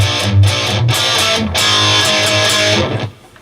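A heavily distorted electric guitar plays the second half of the riff from a song. Dense, chugging palm-muted hits with short rests and barred chords sound loud and close before cutting off near the end.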